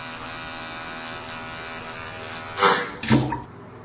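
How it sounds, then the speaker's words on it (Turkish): An electric razor hums steadily and close throughout, ending with two louder bursts of buzzing as it presses against skin. "İlk defa tıraş eden Eren'sindir."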